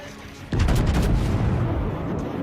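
Battleship main guns fire a salvo in World of Warships, played as a USS Arizona: a sudden loud booming blast with a long rumbling tail that carries through to the end, with no voices over it.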